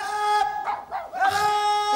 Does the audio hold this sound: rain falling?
no